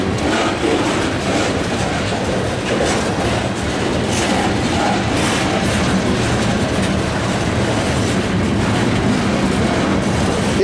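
A CSX freight train hauling ethanol loads, led by two locomotives with two pushers, rolls past Belmeade Road on a former Seaboard line, its wheels and cars clattering steadily and loudly throughout.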